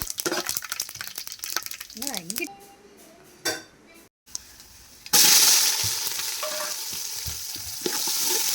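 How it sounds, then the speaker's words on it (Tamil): Chopped onions fry in a pan for Thanjavur-style chicken dum biryani, sizzling loudly after some stirring and utensil clinks, with a voice speaking over the cooking early on. "கட் பண்ணி வச்ச பெரிய வெங்காயத்தை போட்டேன் வெங்காயம் நல்லா செவந்து வர்ற அளவுக்கு நல்லா வதக்கிக்கணும்"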